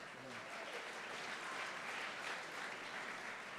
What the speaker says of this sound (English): that's worth a round of applause, I think.